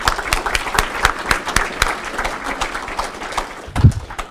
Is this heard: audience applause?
yes